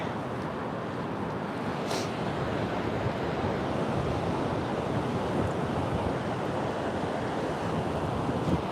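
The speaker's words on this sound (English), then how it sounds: "See how windy it is?" Steady, loud wind roars continuously on a horseback trail ride, a broad rushing noise buffeting the microphone throughout.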